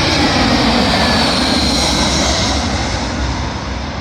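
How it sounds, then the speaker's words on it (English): A British Airways Airbus A320 from Venice lands at London Heathrow, its jet engines producing a loud, continuous roar with a faint high whine, gradually easing off toward the end. "Arriving in now, the British Airways A320 from Venice to London Heathrow"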